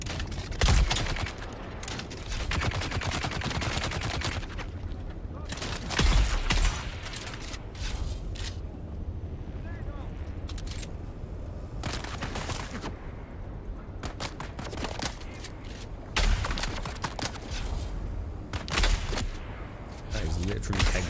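Gunfire in the video game Dune: Awakening, bursts of sharp shots and volleys recurring throughout, loud and close, with occasional heavier booms over a steady background.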